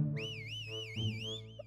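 A person whistles a wavering, warbling tune during a Roblox hide-and-seek game, clear and close with a rising chirp at the end and no talking.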